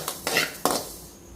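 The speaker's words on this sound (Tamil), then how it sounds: "இப்போ இதே கடாயில் வெள்ளை எல்லையும் போட்டு வறுத்துக்கலாம்." White sesame seeds are roasted in a kadai, with a few quick scraping stirs of a metal spoon against the pan, brief and close over a faint background hiss.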